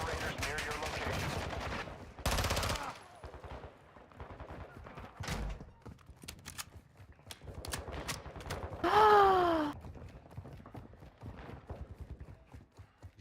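Shotgun fire in a Call of Duty DMZ firefight: several loud bursts of shots at scattered intervals among clicks, movement noise and breathing, with voices briefly heard.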